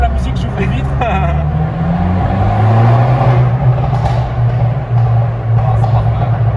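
A Fiat 500 Abarth with a Stage 1 tune and full exhaust revs its engine inside the cabin, the drone rising and holding steady under continuous conversation between occupants.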